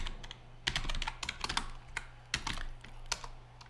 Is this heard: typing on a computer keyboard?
yes